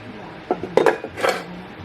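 Small metal carburetor parts for a Yamaha Blaster clink and rattle in an ultrasonic cleaner bowl, a few close, bright taps and jangles in short clusters.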